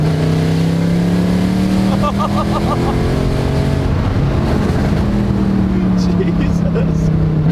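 Mercedes C63 engine noise, loud and steady from inside the car while driving, with a strong low drone that shifts pitch slightly as revs change throughout.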